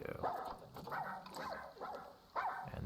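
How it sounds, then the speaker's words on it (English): Sand cat cubs in the Planet Zoo video game give a series of about five short, barking yips spaced through the moment, fairly close and clear over a faint background hum. "And they're barking just like their parents."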